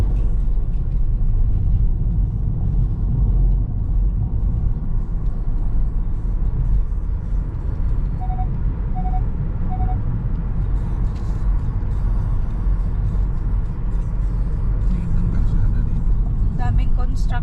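Street traffic in downtown Toronto in summer: a steady low rumble of cars and buses rolling past, with a brief beeping tone midway and clattering hints of construction near the end.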